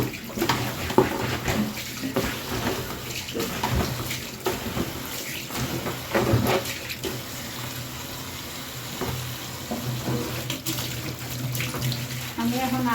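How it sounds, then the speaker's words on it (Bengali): Bay leaves being washed by hand under a running tap in a basin, with continuous splashing water and the rustle and clatter of the leaves being rubbed, close and loud throughout. "আমি সবগুলা বেসিনে পালাইয়ে ভালো করে ধুয়ে তারপরে তেজপাতা দিয়ে"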